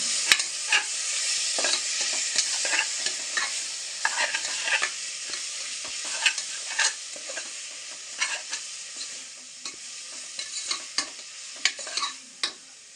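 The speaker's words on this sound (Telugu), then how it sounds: "ఉల్లిగడ్డలు ఉన్న పచ్చిమిర్చి మంచిగా వేగినాయి పసుపు వేసుకున్న తర్వాత కాసేపు ఇలా కలుపుకుందాం" Onions and green chilies fry in a pan with turmeric, a steady close sizzle broken by repeated scraping strokes of a spoon stirring them through, no voices.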